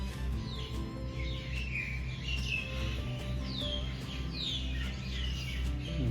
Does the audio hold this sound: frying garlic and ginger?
no